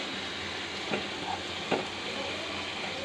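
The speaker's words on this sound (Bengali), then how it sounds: "এটা ব্রাউন হওয়ার আগে পর্যন্ত এটা ভাজবো, একটু ভেজে যাব।" Paneer frying in a pan for dhaba-style palak paneer gives a steady, close sizzle, with two brief clinks of stirring against the pan partway through.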